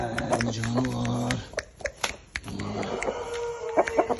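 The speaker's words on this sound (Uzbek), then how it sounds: "xo'roz priz degani, xo'roz show degani mana shunaqa bo'ladi" A rooster at a rooster show gives harmonic crowing calls and clucks, loud and close, with people talking over and between the calls.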